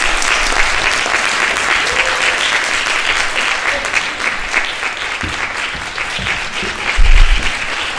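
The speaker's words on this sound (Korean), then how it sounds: "저희가 큰 박수로 그 아리엘 선생님 이 자리에 모시도록 하겠습니다." A lecture audience gives a sustained round of applause, loud and dense clapping filling the room steadily throughout as a guest speaker is welcomed on stage.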